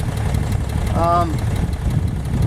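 A 1964 Rambler engine idles just after starting, a steady low rumble throughout, with a voice speaking briefly over it.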